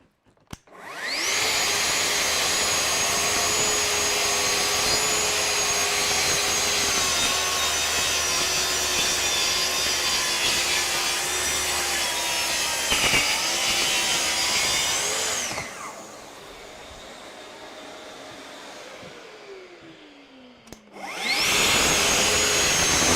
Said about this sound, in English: It'd probably be easier if I had the saw on the other side, or sorry, the dust extractor over there